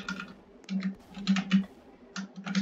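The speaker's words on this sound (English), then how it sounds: "Strucid loud keyboard clicking." A loud computer keyboard clicks away in quick, uneven bursts of keystrokes while someone plays Roblox Strucid, close and alone without any talking.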